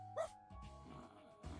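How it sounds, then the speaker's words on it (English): A dog barks once in the dating sim Date Everything, a short yelp-like bark up front followed by quieter murmuring room sound and a soft second sound near the end. "Bark again to confirm."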